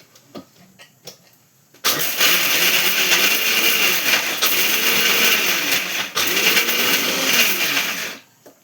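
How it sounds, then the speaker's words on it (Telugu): A kitchen mixer grinder whirs loudly while grinding curry leaves, ginger, garlic, fennel, pepper, coriander seeds and cashews, a strong motor roar running about six seconds with a brief dip midway, after a few quiet clinks. "ఇది మిక్సీ పట్టేసుకుందాం."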